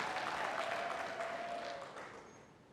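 An audience at a ministry gathering gives a Deputy Permanent Secretary a steady round of applause, faint and distant, with a dense clatter of hands that slowly fades toward the end.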